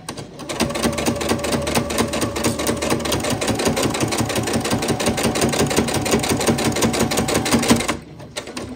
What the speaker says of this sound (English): And then I'm just going to stitch.